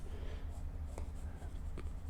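Graphite pencil shading across drawing paper, laid down right after a kneaded eraser lifts tone; a soft, continuous scratchy rasp with a few sharper strokes, close and quiet.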